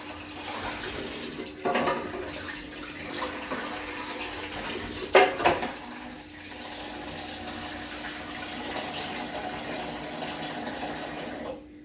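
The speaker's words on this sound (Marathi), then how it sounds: "तर या पद्धतीने आता मी त्यांना भिजत टाकलं" Running water at a kitchen sink while tins are soaked for cleaning, a steady close rush with a couple of brief splashy bumps, no talking.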